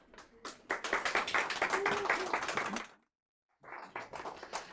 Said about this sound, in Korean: 뜨거운 박수로 한번 환영해 보도록 하겠습니다